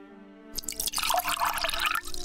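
Water-drinking sound effect for a fantasy RPG built in Unreal Engine 5: after a half-second of quiet, a close burst of wet, dripping liquid sounds runs for about a second and a half, with no voices.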